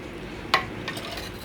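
A single brief clink of a spoon against a pot of Kerala-style sambar with lentils, then quiet with a soft steady background hiss.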